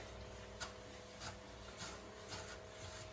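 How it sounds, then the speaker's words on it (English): A rag passes repeatedly over the wooden body of a 100-year-old German cello, laying on thin coats of shellac in French polishing; faint, soft rubbing strokes recur about every half second over steady low background hum. "every little pass over it puts a slight coating of shellac"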